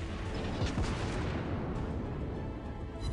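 Heavy battleship main guns fire in a naval combat video game, a dense, continuous roar of booming blasts and rumble filling the whole stretch with no pauses.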